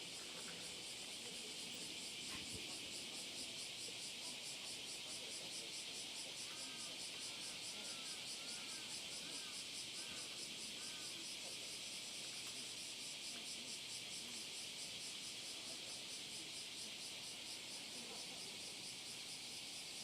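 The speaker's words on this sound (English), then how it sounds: "the sound of cicadas behind me is really loud." Cicadas buzzing loudly outdoors in Hiroshima during the 2020 Peace Memorial Ceremony, a dense, unbroken high-pitched drone filling the air, with faint chirps and distant sounds beneath it.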